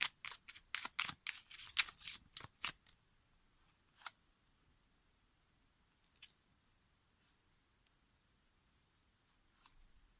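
Tarot cards shuffled in a quick burst of crisp riffling flutters for about three seconds, then a few isolated soft card taps and slides against near silence.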